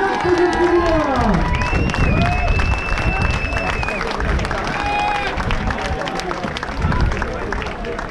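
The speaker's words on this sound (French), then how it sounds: "on applaudit bien fort, on applaudit plus loin" Spectators at the 20 km Côte de Granit Rose road race applaud and cheer loudly in a steady crowd roar, with an amplified announcer's voice speaking over it.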